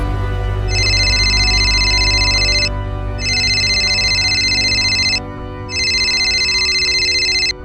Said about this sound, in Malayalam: നിന്റെ ഫോൺ അടിക്കുന്ന കേട്ടില്ലേ?